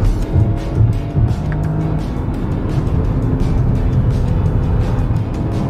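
A BMW X5e plug-in hybrid SUV driving in sport mode, its engine and road noise a steady, loud drone throughout with no break and no voices.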